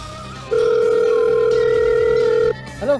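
A telephone rings with a steady two-second electronic tone inside a comedic Hindi crime-investigation skit. The ring is loud and close and stands alone, followed by a brief warbling chirp.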